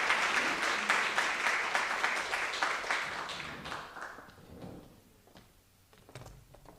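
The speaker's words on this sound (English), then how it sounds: "So let's give a round of applause for Kathy." Audience applause at a Rotary club meeting, a dense burst of clapping that rings out steadily for a few seconds, then thins and fades as the last claps die away.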